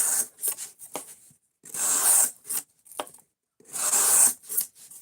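An S90V steel knife blade drawn across a sharpening stone in repeated strokes, about six gritty scraping passes of varying length separated by short pauses, close and clear with no talk.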